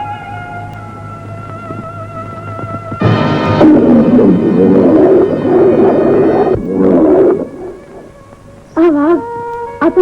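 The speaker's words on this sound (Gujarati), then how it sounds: "આ વાઘ, આ તો મનિકનું જીવતું મોત." A tiger roars in a Gujarati devotional film scene, a loud, sustained growling burst that swells, fades and returns in shorter calls over a steady musical drone.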